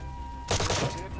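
A burst of gunfire in the turn-based tactical game Phantom Doctrine, a short sharp volley of rapid shots cutting in after a quiet moment and fading quickly.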